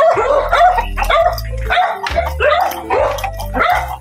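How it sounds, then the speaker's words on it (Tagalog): Several dogs bark loudly and repeatedly close by, overlapping yips and howling barks in a steady, agitated chorus. "Napakaraming aso."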